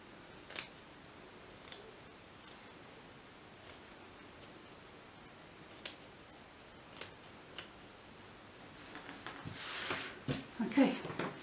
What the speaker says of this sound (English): So all I'm doing is just doing little snips so that when it turns, don't go into the stitching.